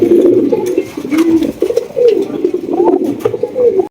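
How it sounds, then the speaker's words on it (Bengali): Blue satinette pigeons coo continuously in low, throaty rolling calls, overlapping one another close by, with faint background rustling and chirps. "এখানে কিন্তু একজোড়া ব্লু শার্টিন কবুতর আছে"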